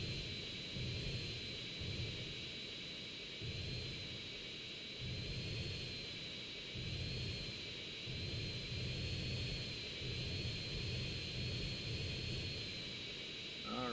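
An aircraft lands on a runway in GTA San Andreas, a faint steady jet engine whine with a high tone held throughout over a low rumbling roar that pulses in slow waves, distant and even.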